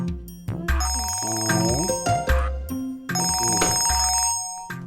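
A mobile phone rings indoors with a tonal, melodic ringtone playing in repeated bursts over a steady electronic backing, loud and close, with short pauses between phrases.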